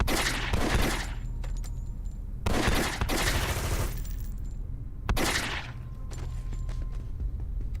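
Gunfire from shooting enemies in the video game City of Heroes comes in several sharp, loud bursts separated by short gaps, each burst a dense rattle of shots that quickly fades.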